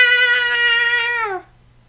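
A person imitates a big cat's meow as one drawn-out, nasal, tonal call that bends downward and cuts off after about a second and a half.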